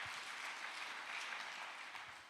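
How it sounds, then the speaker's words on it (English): Conference audience at a church event applauding, a faint, distant, continuous patter of many hands clapping that stays even throughout and eases off slightly at the end. "Let's give a clap to all that."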